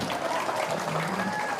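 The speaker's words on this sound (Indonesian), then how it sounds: "Tepuk tangan dulu" Audience clapping during a Maulid religious sermon in Indonesia, a steady dense patter of many hands filling the short stretch at moderate loudness with no clear speech over it.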